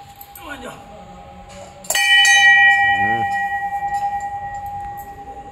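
A bright metal bell is struck once loudly and rings on, its tone slowly fading with a wavering shimmer, after brief voices at the start.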